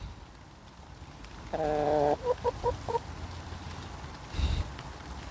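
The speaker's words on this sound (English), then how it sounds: "I do like my chickens, don't I?" A hen clucks and warbles in a short run of repeated calls, fairly close, over steady rain-like background hiss, then a brief thump.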